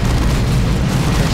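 Rocket launchers fire in a Warhammer 40K video game, a loud, dense rumbling blast of explosions with heavy low booms running through the whole short moment.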